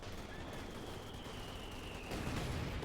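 Artillery rumbles in Company of Heroes 2 as a dense, continuous wash of distant mortar fire and explosions. It sits fairly faint with a steady texture, then a heavier burst of impacts thickens the sound near the end.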